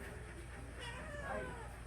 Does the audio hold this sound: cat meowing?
yes